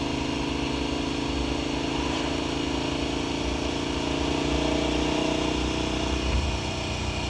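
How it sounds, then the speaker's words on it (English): A KTM 1290 Super Adventure's LC8 engine runs steadily while riding on a Hawaiian road, a smooth continuous drone with light rises in revs and wind noise, no talking. "This LC8 engine is so smooth,"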